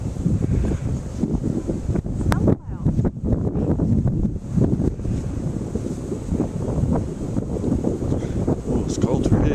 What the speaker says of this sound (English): It's cold through here, that wind coming off the mountain.